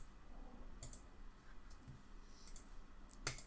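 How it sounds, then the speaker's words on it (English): Computer keyboard clicks, a few faint, sharp, scattered taps over quiet room noise. "So one spacebar hit"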